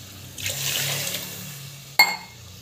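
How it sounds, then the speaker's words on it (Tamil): Water poured into a cooking pot of sautéed vegetables for a paneer vegetable biryani, a steady splashing pour lasting about a second and a half, then a sharp clank near the end. "2 டம்ளர் வாட்டர் வந்து போட்டுக்கலாம்"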